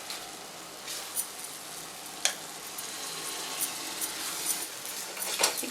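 Onion, ginger, garlic and tomato fry in a pan for prawn biryani, giving a soft, steady sizzle with a few faint utensil clinks and no talking.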